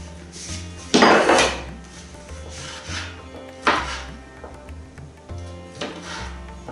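Tomatoes being cut in a kitchen for a fish tajine, with a few distinct knife chops against a board, the strongest near the start, amid light clatter of dishes and utensils.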